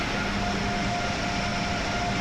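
Amtrak Acela Express high-speed train running in the Train Sim World game on the Boston–Providence line, a steady rumbling rail roar with a faint sustained tone, continuous and even throughout.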